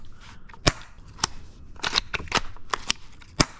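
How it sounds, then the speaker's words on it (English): An airsoft rifle bolt is cycled repeatedly, giving sharp metallic clacks and snaps spaced irregularly, close and crisp, with quieter handling rattles between them. "Obviously super satisfying bolt sound."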